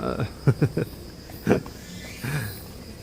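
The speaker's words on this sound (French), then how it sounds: "Putain, on entend encore les cigales à cette heure-là?" A steady high insect drone, cicadas singing at night in Nachi-Katsuura, Japan, runs continuously beneath short bursts of nearby voices and soft outdoor noise.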